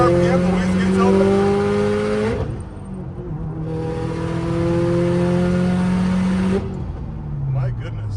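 Turbocharged Subaru STI floored from about 3,500 RPM with the wastegate open, a loud steady engine drone climbing in pitch, dropping briefly at a shift, then pulling again with a second falling pitch at the end; speech is faintly present.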